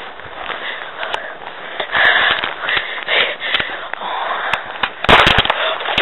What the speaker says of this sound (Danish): Det var fandme et skud.